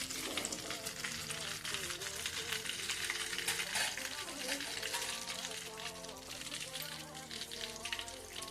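Raw banana slices for fasting-day chips, soaked in salted water, fry in oil over a low gas flame with a dense, steady crackling sizzle that runs throughout. Faint tonal sounds sit underneath.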